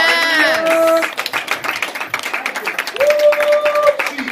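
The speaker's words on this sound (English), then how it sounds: "Clap your hands, all you people." A church congregation claps along in a lively rhythm under sung or shouted voices, with rapid, dense hand claps filling the room.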